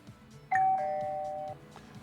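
A short electronic chime rings out once, a bright two-note tone that holds briefly and cuts off, with quiet background otherwise.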